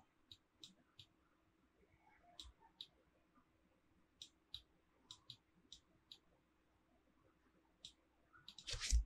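Keys clack on a SteelSeries Apex 5 mechanical keyboard in sparse, light, close presses spread over several seconds, ending in a louder quick cluster of strokes.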